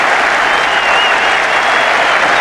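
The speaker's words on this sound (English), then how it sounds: "they're going to applaud him all the way in" Packed Saturday afternoon crowd at Old Trafford during the 1981 Ashes Test gives Ian Botham sustained, dense applause as he walks in, a steady loud roar of clapping with no gaps.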